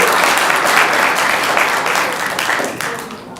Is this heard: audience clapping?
yes